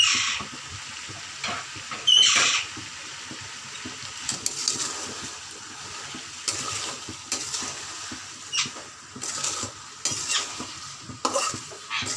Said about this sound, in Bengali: এইভাবে চালাতে থাকবো আর একটা একটা মশলা দিতে থাকবো।